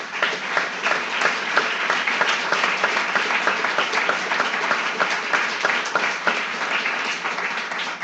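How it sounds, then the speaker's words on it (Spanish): An audience at a church service breaks into steady, sustained applause, dense overlapping clapping that holds at full strength throughout. "Démosle un aplauso."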